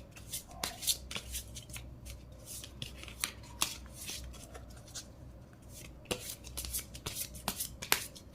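A deck of oracle cards being shuffled by hand, with quick crisp riffles and soft slaps repeating in irregular bursts close by, no talking over them.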